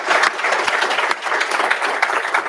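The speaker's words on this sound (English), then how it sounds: "If you would give them a round of applause" Brief applause from a panel-discussion audience at an Army VERTEX energy event at Capital Factory in downtown Austin, a steady dense patter of clapping heard close and continuous without speech.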